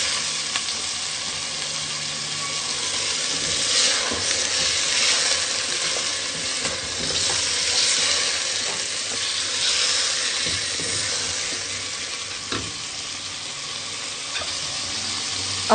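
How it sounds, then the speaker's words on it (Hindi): Korma masala sizzles in a pan as leftover yogurt is stirred in. A continuous loud frying hiss runs with scraping stirs throughout and no talking. "अब हम इसको अच्छे से भूनेंगे। साथ ही हम ये दही भी डाल देंगे जो बच गया था। अब हम अच्छे से मिक्स करेंगे।"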